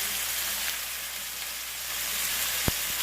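Seasoned pork chops sizzle steadily in a frying pan, a dense continuous hiss with a couple of sharp pops near the end.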